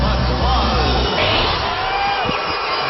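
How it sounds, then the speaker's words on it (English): A large arena crowd at a UAAP volleyball semi-final between DLSU and ADMU roars and cheers in a loud, continuous wash of noise that holds steady across the whole stretch. "And now the crowd getting into it."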